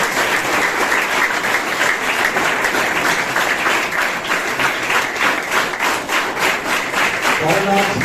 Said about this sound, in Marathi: आपण एकदा जोरात राहुलजीसाठी टाळ्या वाजाव्या